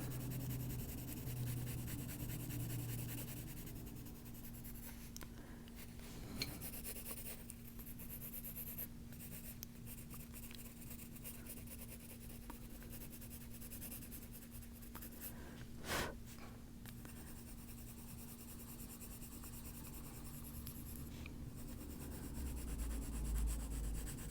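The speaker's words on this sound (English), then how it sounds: "I'm going to rub my finger on that, warm everybody up" Soft, steady rubbing of a fingertip blending colored pencil across a coloring book page, a quiet continuous friction swish close up, with a couple of faint taps and no talking.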